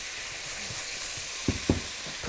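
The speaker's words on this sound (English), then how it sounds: "keep caramelise those onions on a medium heat" Onions caramelising in a pan on medium heat give a steady, close hiss of sizzling throughout, with a few soft stirring knocks toward the end and no talk.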